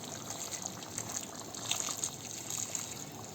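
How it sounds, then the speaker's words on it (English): Warm water poured from a glass into a pot of home-made goat curry, a steady close trickle and splash lasting a few seconds with no talk. "I'm going to put a bit more water in. So roughly another glass of warm water."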